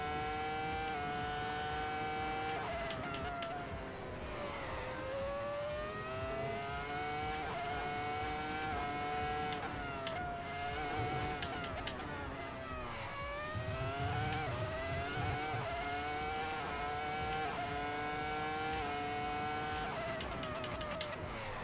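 Several racing car engines from the sim racing game Assetto Corsa whine and rev continuously, pitch rising and falling through gear changes, loud and steady throughout with no talk.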